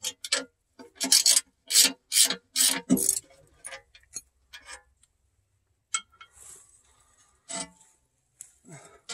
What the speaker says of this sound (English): I'll get this last bolt out of here.